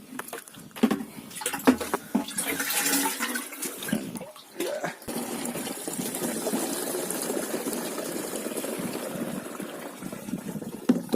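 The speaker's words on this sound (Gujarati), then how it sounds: "પહેલાં તો ડબલું પાણી નાખી દઈએ અંદર ભરીને" Water gushes and splashes into a pesticide sprayer tank, a steady rushing pour that runs continuously and fills the space.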